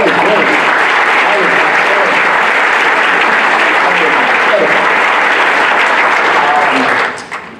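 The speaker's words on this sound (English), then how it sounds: "can we give him a round of applause?" Loud, dense applause from a large audience at a fall 2015 university convocation, honouring the president; sustained, even clapping close by that cuts off sharply near the end.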